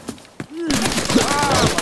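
Video game gunfire bursts in loudly partway through, a dense rattle of rapid shots after a quieter start, with a voice talking over it.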